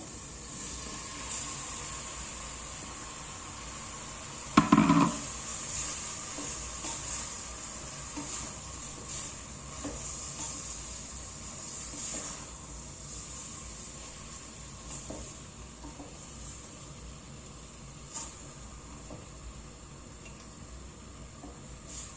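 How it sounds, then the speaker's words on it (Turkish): Tomato paste fries in a pan ahead of chopped zucchini, giving a soft, continuous sizzle with one brief louder burst early on and faint stirring noises. "Salçamız birazcık da kavrulsun. Daha sonra bu doğramış olduğum kabakları içerisine aktaracağım."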